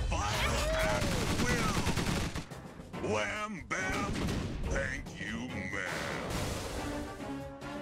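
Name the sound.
gunfire and artillery from the video game Tiny Metal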